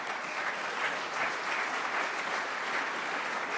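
A legislative assembly in Montana applauds, a steady and even wash of many hands clapping at moderate volume that holds for the whole stretch without any talking.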